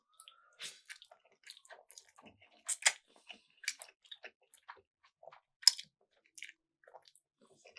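Someone eating spicy Buldak chicken ramen noodles, with close, wet chewing and slurping in irregular bursts, some louder crunchy smacks, against a quiet background without talk.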